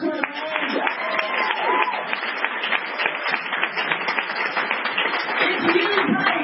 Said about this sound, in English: clap your hands if you had fun today on the trail